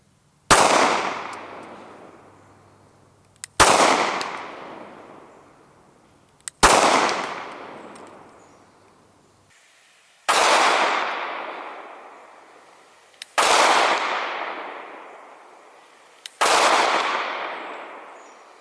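Six sharp Glock 43 subcompact pistol gunshots ring out one at a time with a few seconds between them, each a loud crack followed by a long decaying outdoor echo.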